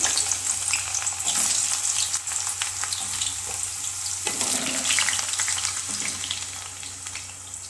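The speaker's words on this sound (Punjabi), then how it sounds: "ਹੁਣ ਇਹਦੇ ਵਿੱਚ ਆਪਾਂ ਆਲੂ ਪਾ ਦਵਾਂਗੇ ਆਲੂਆਂ ਨੂੰ ਫਰਾਈ ਕਰ ਲਵਾਂਗੇ" Potatoes fry in hot oil for a mixed vegetable dish, giving a steady, close sizzle and crackle with occasional stirring scrapes throughout.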